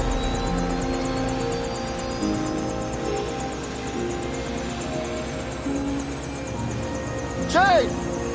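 A medevac helicopter drones steadily at an accident scene, its engine and rotor noise sustained throughout under background activity, with a brief louder rise near the end.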